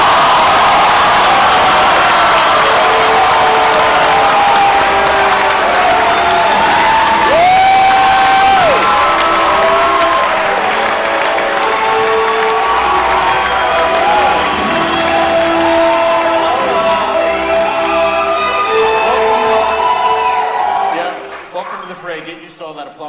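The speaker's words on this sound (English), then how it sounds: "Get used to all that applause, by the way." A large crowd at a Marvel Studios event roars with sustained applause, cheering and whoops after Black Panther actor Chadwick Boseman is introduced, loud and continuous for about twenty seconds before quickly dropping away, with voices calling out over it.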